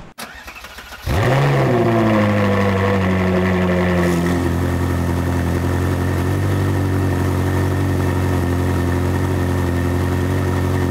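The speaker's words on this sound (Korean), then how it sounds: "엔진 경고등 있는데 시동 켜요?" A Ferrari 458 with its engine warning light on cranks and fires up with a loud roar, then settles into a steady, rumbling idle that carries on for several seconds without voices.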